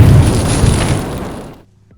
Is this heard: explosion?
yes